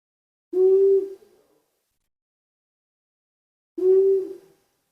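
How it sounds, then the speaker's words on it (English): Two long, loud single hoots from a male long-eared owl, each a steady low tone of about half a second, separated by a few seconds of silence and heard close and alone. "one long, loud hoot, single hoot."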